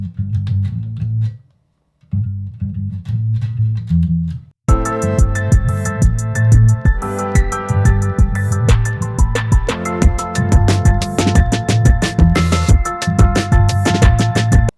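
P-Bass electric bass guitar playing a bassline in a jam session, with a brief drop into silence before fuller, denser playing resumes with bright percussive hits, loud and continuous without talk.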